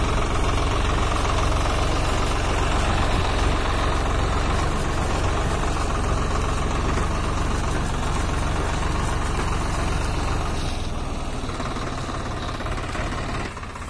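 A Swaraj 744 XT tractor pulling a trolley loaded with wet manure runs with a loud, steady diesel chug and knock that continues throughout and eases slightly near the end.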